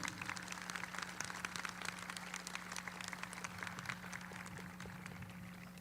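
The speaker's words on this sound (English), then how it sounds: "Can you give all those people a big round of applause?" Sustained crowd applause at a high school commencement ceremony for Lockport Township High School, a dense wash of many hands clapping steadily throughout at a moderate distance, with a constant hum underneath.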